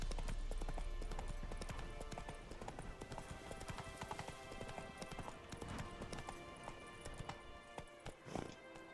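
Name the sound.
horse Roach's hoofbeats in The Witcher 3 video game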